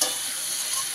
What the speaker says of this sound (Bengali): এখন আলু ফুলকপির তরকারিটা কষানো হচ্ছে